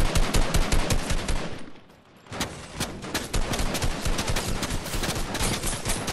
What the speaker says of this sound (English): Oh god, they're both shooting at me now.